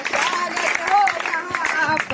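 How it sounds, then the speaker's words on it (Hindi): An audience at a school teachers' day and farewell ceremony claps while a voice sings over the top, and the applause carries steadily beneath the singing. "जोरदार से ताली बजाइए।"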